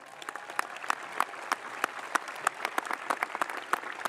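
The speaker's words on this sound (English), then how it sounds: "Please give them a big round of applause." Graduation audience applauding steadily at a high school ceremony, a dense patter of many hands clapping at moderate volume with no voices.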